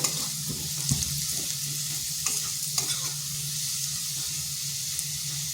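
Potatoes being stir-fried in a pan for a prawn and cucumber curry, a steady sizzle and steamy hiss under a low hum, with a few soft scrapes and taps of the spatula and no speech.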